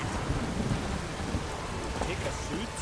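A thunderstorm in the video game The Witcher 3 brings steady, dense rainfall with a low rumbling undertone, heard close and continuous for a few seconds without speech.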